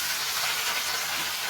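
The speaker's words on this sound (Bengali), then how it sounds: "আমি এবারে মাছগুলোকে ভেজে নেব।" Rui fish frying in hot oil in a kadai gives off a steady, close, dense hissing sizzle with no pauses. No talking.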